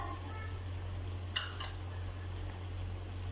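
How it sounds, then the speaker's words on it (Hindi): Bell peppers going into frying chicken jalfrezi with tomato and onion, a quiet steady sizzle with a couple of brief stirring scrapes over a low hum. "अब हम शिमला मिर्च ऐड करेंगे"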